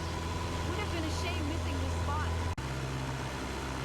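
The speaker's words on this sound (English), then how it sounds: "As you can hear, the engine is struggling with the extra weight of the passengers" Aircraft engine straining under passenger weight in Flight Simulator 2024, a steady low droning hum running continuously under a voice-over.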